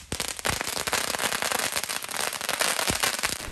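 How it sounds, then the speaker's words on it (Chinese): Firecrackers going off in a long, loud, rapid string of sharp cracks and pops, dense and continuous, close by with no talk over them. "鞭炮声响起"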